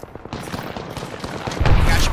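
Gunfire in a shooter video game, rapid shots crackling through a busy mix that swells into a louder, denser burst near the end, with voices talking over it.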